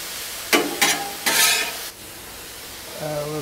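Chicken fried rice and garlic on a Blackstone griddle set to low, with three quick scraping stirs of a spatula over a soft sizzle, then a quieter pause before a low hum returns.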